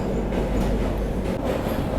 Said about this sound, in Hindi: बहुत ही बढ़िया लगता है ये ब्रिज, जब भी ट्रेन इस ब्रिज से क्रॉस होती है।